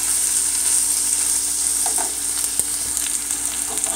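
Corned beef and caramelized onions sizzle steadily in a hot pan, a continuous close frying hiss with a few soft stirring scrapes and no talking.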